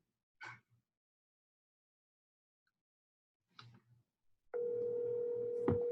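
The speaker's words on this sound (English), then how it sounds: "I'm bringing Marvin onto the phone, guys" A phone call is placed over a speakerphone: a few short blips and clicks, then a steady electronic ringback tone that sounds continuously at moderate level, with no talk over it.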